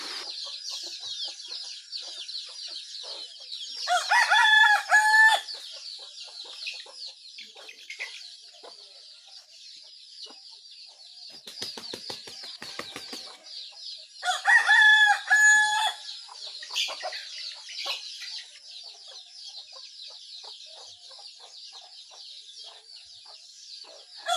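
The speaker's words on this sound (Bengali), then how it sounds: "আমি মুরগির খোপটা খুলে দিয়েছি, এরপরে ওরা দৌড়াদৌড়ি করতেছে" Chickens just let out of their coop in a village cluck and chatter softly throughout, with a rooster crowing loudly twice, nearby, and birds chirping in the background.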